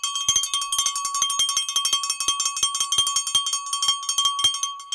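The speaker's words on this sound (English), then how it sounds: "If you become a member, you get the bell." A small bell rung over and over to welcome a new channel member during a live stream, dense bright metallic dings with a steady sustained tone, loud and continuous throughout with no talk.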